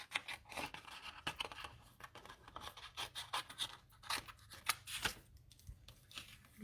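Paper pieces being cut down for a card-making project, with close, quiet, irregular snips and scratchy paper rustles repeating throughout, no talking.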